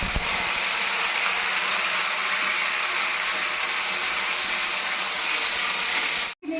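Pre-fried onions go into hot oil tempered with cumin, making a dense, even, loud sizzling hiss throughout that cuts out abruptly for a moment near the end.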